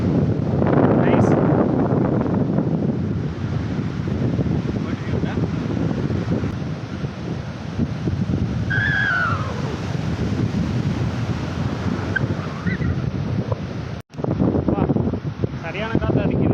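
Strong wind roars steadily across the microphone on the seashore at Porbandar, India, a loud continuous rush with waves faintly underneath.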